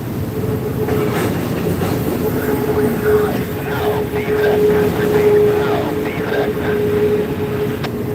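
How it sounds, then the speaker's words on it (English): A CSX freight train rumbles past at a rail crossing in Decatur, a loud continuous roar of wheels with faint clickety-clack and occasional squeal, steady throughout. "Sounds like we've got another CSX train coming north of the mix."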